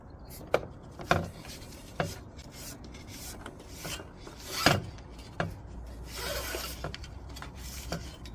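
A small screwdriver scrapes and rubs against rope while working it through a rudder fitting on a boat, giving faint, close, irregular scratching with a few sharper knocks.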